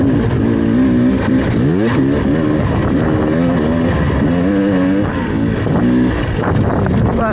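A 2024 Beta 300RR Race Edition two-stroke dirt bike ridden hard, its engine loud and close, revving up and down continuously with rising and falling pitch sweeps as it accelerates through gears.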